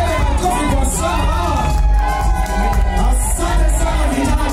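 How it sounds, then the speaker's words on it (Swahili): Loud crowd cheering with high ululating trills and shouts at a Congolese graduation party in Wisconsin, a dense, continuous festive roar with voices mixed in. "vigelegele na kofi kwa sana"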